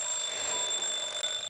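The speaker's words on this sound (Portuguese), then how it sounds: "É ele mesmo, o despertador lá da época da vovó." An old-fashioned mechanical alarm clock rings in a steady, loud, continuous metallic trill that fills the whole stretch without pause.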